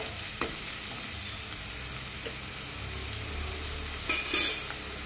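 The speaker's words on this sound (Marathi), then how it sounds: "आता हा कांदा आपला थोडा लाल होऊन द्यायचा।" Chopped onion frying in a pan for layered biryani gives a steady, close sizzling hiss, with a few soft scraping stirs and a brief louder clatter near the end. No one speaks.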